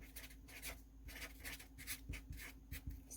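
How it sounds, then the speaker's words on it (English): A pen scratches out a short handwritten message on a photocard package, with steady rhythmic strokes, close and soft against a quiet background. "And then I always write stay"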